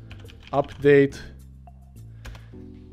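Someone types on a computer keyboard in a short burst of clicks beneath a voice giving instructions for setting up a Killing Floor 2 server.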